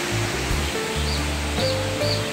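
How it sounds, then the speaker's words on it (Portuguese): Steady broadband rush of the Ducha da Prata waterfall in Campos do Jordão, continuous and fairly close, with no voices and a few faint tonal hums layered underneath. "Parece que é uma cachoeira, tá?"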